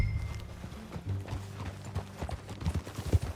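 Horse hooves clip-clop at a steady walking pace in Red Dead Redemption 2, close and moderately loud, with faint background ambience.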